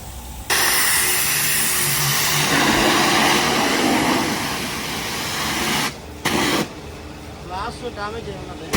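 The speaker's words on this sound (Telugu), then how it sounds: "ఇదిగోండి ప్రెషర్ వాష్ చేస్తున్నాడు" A pressure washer sprays a car at a car foam wash in Vizag, a loud close continuous hissing roar that cuts off briefly twice before resuming, with voices in the background.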